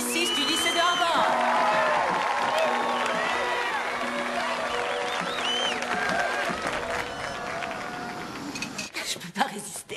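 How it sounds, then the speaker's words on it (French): A large crowd applauds the 2006 graduates of Harvard High School at a graduation ceremony, steady dense clapping mixed with cheers and whoops that carries on for most of ten seconds before thinning out, with voices in the mix. "D'applaudir bien fort les lauréats de 2006 du lycée de Harvard."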